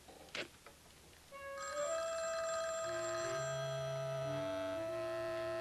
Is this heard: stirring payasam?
no